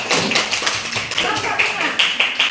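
A group claps by hand in a classroom session, with sharp irregular claps overlapping for a couple of seconds, close and fairly loud, and voices murmuring underneath.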